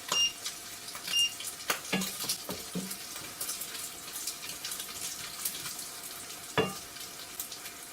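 Bacon for a potato salad crackles faintly in a pan, with a few louder clinks and knocks of a utensil against the pan scattered through the sizzle, and no talking.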